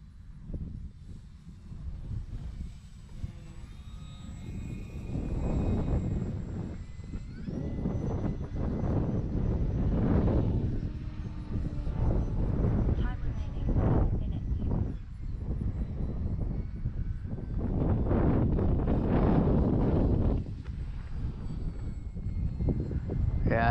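A small RC plane flying in strong, stormy wind, its thin engine drone weaving through heavy gusts of wind rumble on the microphone, while someone talks on and off nearby.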